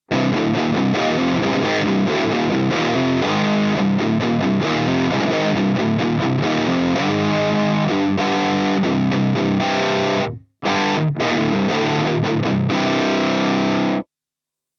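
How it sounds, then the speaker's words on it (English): An electric guitar played through heavy distortion, before a Plasma pedal is engaged, chugs and rings through dense riffs and sustained chords with a brief cut-off near the end. "That's decent distortion, pretty solid."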